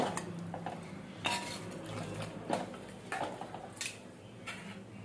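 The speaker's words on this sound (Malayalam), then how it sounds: "നമുക്കിനി ഇത് അടച്ചുകൊടുത്ത് വേവിക്കാം" Metal clinks and knocks of a lid being set over a pot of mutton, several separate quiet clatters spaced irregularly against a soft kitchen background.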